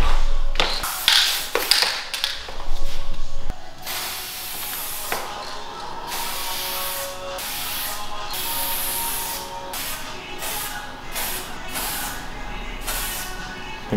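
A spray paint can hisses in long continuous bursts, loud and close, after a few short taps and knocks at the start.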